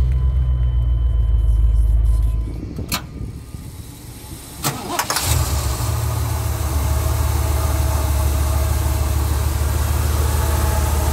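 Chevrolet Cheyenne 350 SS pickup with a 5.7-litre V8 cranks briefly and catches, then settles into a loud, steady, deep idle close by, with no one talking over it.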